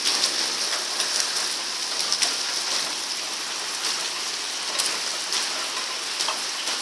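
Steady, dense rain pours down during a worsening thunderstorm, a constant hiss of drops hitting surfaces with a few sharper spatters, close and continuous with no voices.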